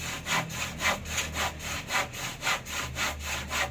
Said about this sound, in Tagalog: Tuloy ang lagari sa kulungan ng baboy, malapit na.